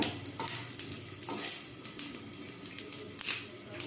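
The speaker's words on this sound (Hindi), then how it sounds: "अब हम इसमें डालेंगे तेजपत्ता और गरम मसाले। तो हम यहाँ सारे को 1 सेकेंड के लिए फ्राई कर लेंगे पहले।" Bay leaves and garam masala fry in hot oil for a Broccoli Butter Masala, giving a soft, steady sizzle and crackle close by with a few faint utensil sounds.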